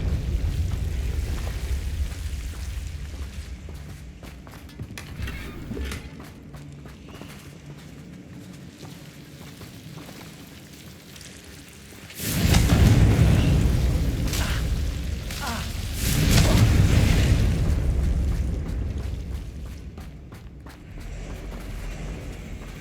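Two heavy, rumbling blasts from the Confringo spell in the Hogwarts Legacy video game, each a loud booming burst with a long low tail, separated by a few seconds of quieter ambience.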